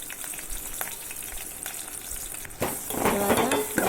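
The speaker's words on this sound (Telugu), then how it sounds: "ఉల్లిపాయ ముక్కలు కూడా కట్ చేసి వేసుకున్నాము. తర్వాత వచ్చేసి కరివేపాకు రెమ్మలు." Chopped onions and curry leaves frying in oil for a cauliflower fry, a steady crackling sizzle that swells louder and sharper near the end, with faint utensil clinks and no talking.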